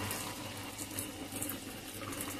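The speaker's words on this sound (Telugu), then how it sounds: "మీ రుచికి తగినంత హాట్ వాటర్ వేసుకోవాలండి ఇందులోన." Hot water pours steadily into a pot of dum aloo being cooked, a continuous close splashing rush with no talk.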